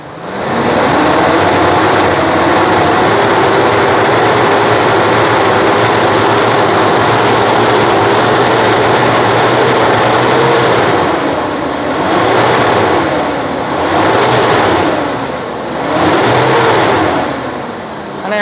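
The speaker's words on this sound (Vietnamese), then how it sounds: "Máy nổ êm lắm." The engine of a Toyota Zace GL idles steadily and loudly, a close continuous hum, then rises in several brief revs toward the end, with no talk.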